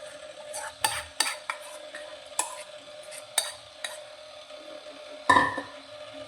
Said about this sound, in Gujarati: અને હવે આપણે જે બેટર તૈયાર કર્યું છે તે આપણે થાળીની અંદર પાથરી દઈશું.